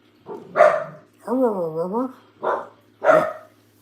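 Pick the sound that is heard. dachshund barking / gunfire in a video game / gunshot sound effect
dachshund barking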